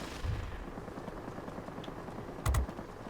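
Aircraft guns fire in the World of Warplanes video game, a Tomahawk IIb, with two short low bursts of rapid shots a couple of seconds apart over a steady engine drone.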